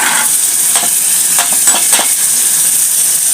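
Tilapia wet fry cooking in a pan gives a steady, bright sizzle, with a few scraping stirs and light clinks of a utensil, close and loud with no talking.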